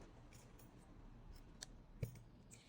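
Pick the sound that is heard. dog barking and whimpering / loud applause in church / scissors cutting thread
scissors cutting thread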